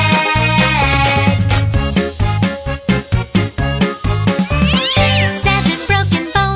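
A cat's meow is sung as a repeated vocal imitation in a children's nursery rhyme about a cat. The meows sit over loud, bouncy backing music with steady beats and end in a rising swoop.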